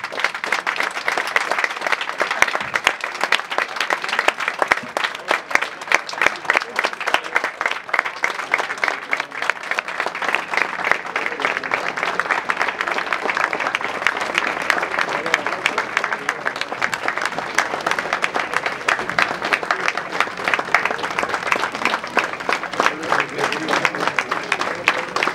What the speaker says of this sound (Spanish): también le vamos a brindar un minuto de aplausos